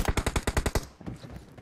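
Rapid automatic gunfire from a video game team deathmatch, a burst of about eight loud, evenly spaced shots followed by a fading, rumbling tail.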